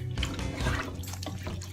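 Water pours and splashes into a pot of cooking Nigerian party jollof rice, a steady close liquid rush with some gurgling, heard alone without talk.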